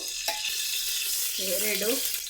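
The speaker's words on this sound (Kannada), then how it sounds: "ಕುಕ್ಕರ್ ಕಾದಿದೆ. ಎಣ್ಣೆ ಹಾಕ್ಕೊಳ್ತಾ ಇದ್ದೀನಿ." Oil poured into a heated pressure cooker for cabbage pulao tempering sizzles close and steadily, with a light knock early on and a short voice sounding over the hiss near the end.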